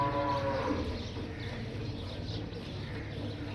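A Cholistani Friesian cross dairy cow gives a loud, drawn-out moo close by that fades gradually.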